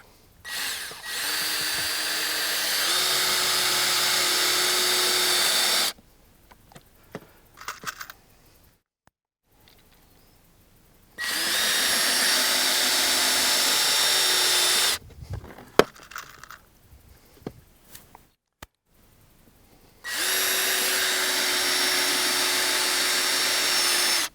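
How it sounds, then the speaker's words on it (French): A power drill drives screws through plastic into a wooden stair riser during staircase assembly, three long sustained runs of steady whirring with quiet pauses of small handling noises between them. "je visse la contre-marche, elle aussi qui a été découpée en fonction"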